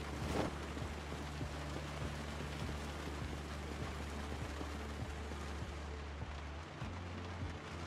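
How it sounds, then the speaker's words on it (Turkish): Steady rain pattering in the Project Zomboid video game, a dense even hiss throughout with low rumbling underneath and a brief louder burst at the start. "zaten oyun yağmur yağdırıyor"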